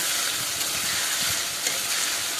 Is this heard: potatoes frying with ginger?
yes